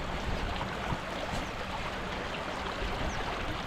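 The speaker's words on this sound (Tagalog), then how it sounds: "Ang lakas po ng agos eh." Strong river current rushing past during a fishing trip, a steady broadband watery wash with faint gurgles, fairly quiet and unbroken for a few seconds, no voices.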